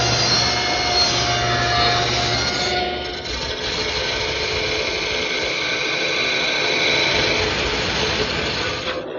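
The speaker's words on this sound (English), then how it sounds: "I'll clip all the corners at the table saw" A table saw clips the corners off a turned wood post. A loud, continuous whining roar of the running blade cutting wood shifts in tone partway through, close and alone.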